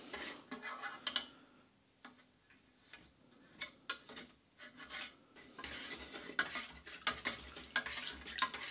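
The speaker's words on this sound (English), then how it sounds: "Just give this another stir" A cup of MRE coffee being stirred, quiet irregular clinks and scraping swirls of a spoon against the cup, close but faint, in short bursts with brief pauses and no voices.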